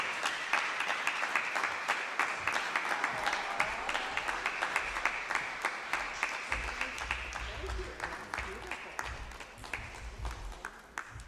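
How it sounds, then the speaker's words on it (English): Steady applause from a church congregation honoring two women standing during a Sunday service, dense clapping sustained throughout at moderate distance, with low rumble and faint voices underneath. "we could have a round of applause for them"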